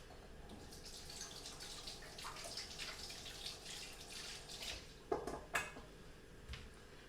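Hands are washed under a running tap in a kitchen, a steady stream of water with splashes and two sharper spattering bursts near the end, with no talking.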